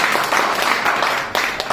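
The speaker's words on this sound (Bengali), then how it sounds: "একটা হাততালি" A roomful of listeners breaks into applause, dense and steady clapping that carries on for nearly two seconds with no pause.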